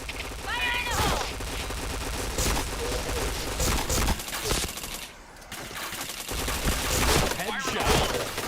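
Rapid bursts of gunfire and explosions fill an online PointBlank shooter match, dense and continuous across the whole stretch, with game voice callouts and talk mixed in and a brief lull around the middle.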